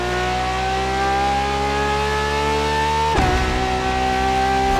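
Ferrari LaFerrari hybrid supercar engine in the racing game The Crew Motorfest, a loud steady high-revving drone with rising pitch that drops sharply as the gear shifts, then climbs again, continuous and close.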